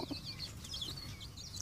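Growing chicks, about a third the size of the hen, on a homestead: faint, soft chirps and clucks scattered over low background noise, with no voices.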